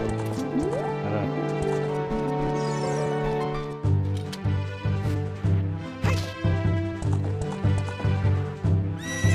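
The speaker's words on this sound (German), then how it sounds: "Ah, Pferd!" Epona, the horse in Zelda: Ocarina of Time, gallops with rhythmic clip-clop hoofbeats and a brief neigh, over a layered game music bed, loud and regular in the second half.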